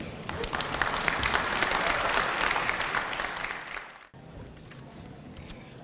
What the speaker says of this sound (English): Can we get another big round of applause for our first three speakers?